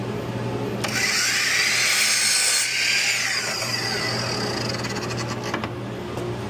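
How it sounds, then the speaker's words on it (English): Miter saw set to 45 degrees cutting a cedar strip for planter box trim: a loud, close whine as the blade bites and cuts through, then spins down with a steady motor hum, no talking. "go to the miter saw, set it to 45 degrees,"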